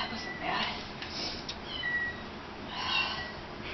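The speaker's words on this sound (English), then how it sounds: "A talkative kitty." A house cat meows indoors, a few drawn-out calls spaced across a short stretch, with faint background noise between them.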